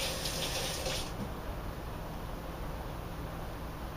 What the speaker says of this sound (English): I just want to rinse my hands quickly.